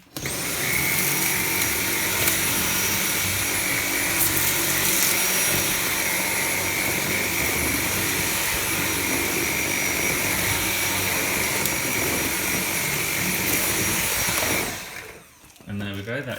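A Dyson V7 Motorhead cordless stick vacuum runs on its max setting with a loud, steady high-pitched whine that holds unbroken for about fifteen seconds, then shuts off abruptly near the end.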